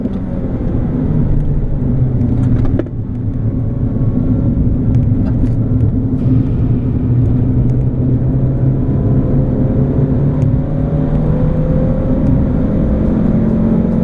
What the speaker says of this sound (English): It revs out so nice.